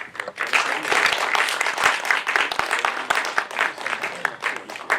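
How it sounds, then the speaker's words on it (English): Sustained applause from an audience after a block of short films at a festival Q&A, dense steady clapping filling the whole stretch at fairly close range. "round of applause."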